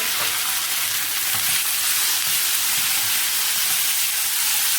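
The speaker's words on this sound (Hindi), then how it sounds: "अब इसमें चिकन डाल देते हैं। ये जो छोटे छोटे पीस करके मैंने रखा हुआ था" Small chicken pieces frying for shawarma produce a loud, dense, unbroken sizzle and hiss right up close, with faint low rumbles of stirring underneath.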